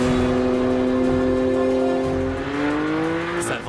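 BMW M4 GTS with a titanium exhaust circling a race track, its engine holding a loud steady howl that climbs in pitch under sustained acceleration, close and continuous without speech.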